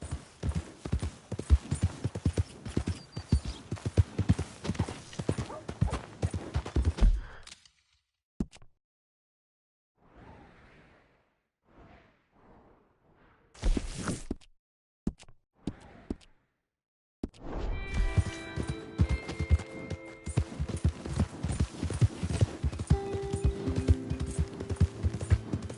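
Hooves of a horse galloping in Red Dead Redemption 2 clatter in a fast, steady clip-clop for several seconds, break off into near silence with a few scattered thuds, then resume with a game music tone over the running hoofbeats.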